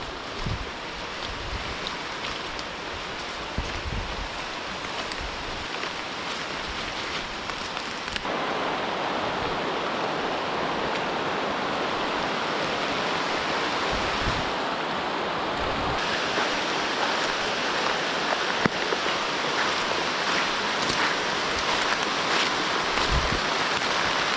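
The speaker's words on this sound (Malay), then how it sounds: "hujan dah start lebat" Heavy rain falls in a forest beside a river, a dense, steady broadband hiss that grows louder partway through, with occasional dull thumps and no talk.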